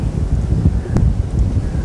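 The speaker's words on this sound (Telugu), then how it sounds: "సముద్రం మీదకి వెళ్ళి ఇట్లా చల్ల గాలి వస్తుంది" Cool sea wind blows across Vizag beach, a steady low roar of gusts buffeting the microphone for the whole stretch, with a faint rustle and distant surf beneath and no voices.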